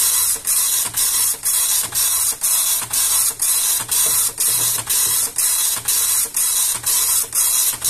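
An Epson LX-300 dot-matrix printer runs a test print while it has a fault that overlaps lines. It makes a loud, steady mechanical buzz broken into regular repeating passes, about two per second, with no talk.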